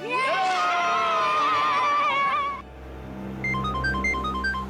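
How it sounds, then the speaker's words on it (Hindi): A loud crowd of children shouting and cheering, then a beeping electronic ringtone with a repeating melodic pattern rises over a low hum. "अरे वो सीआईडी वालों को फोन आ रहा है।"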